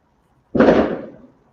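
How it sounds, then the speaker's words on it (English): A single firework bursts outside a house, one loud, sudden boom that fades over about a second with no other sound around it. "Someone's shooting fireworks outside my house"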